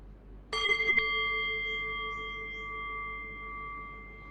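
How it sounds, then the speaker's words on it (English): A meditation bell is struck once, with a second strike close behind, then rings on in a long, clear sustained tone that slowly fades. It is heard alone with no talking. "Okay, so I'll ring the bell."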